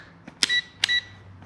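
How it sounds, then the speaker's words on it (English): A multimeter set to continuity gives two short, high electronic beeps in quick succession while wiring is traced on a 70-year-old Farmall Cub tractor, close and clear over quiet room tone. "so when they connect, it'll beep"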